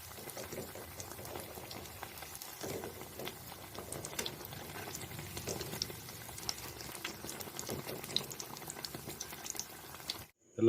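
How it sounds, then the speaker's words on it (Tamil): Omelette bajji, battered omelette pieces, deep-frying in hot oil: a dense, steady bubbling hiss that runs almost the whole time and cuts off abruptly just before the end. "எல்லா ஆம்லெட்டையும் எண்ணெயில் போட்டு பொரிச்சு எடுத்தாச்சு."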